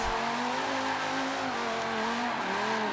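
A stretch limousine fitted with a drift kit, driven in Forza 7, drones continuously with a steady engine hum that sags slightly as it labors uphill in third gear, loud and constant with no talk.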